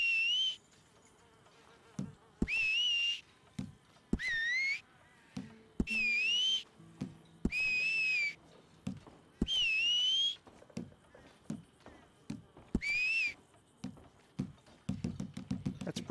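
A character in Red Dead Online whistles in a series of short, repeated tones of about one to two seconds each, pitch sliding and trilling slightly, separated by clicks and soft thuds.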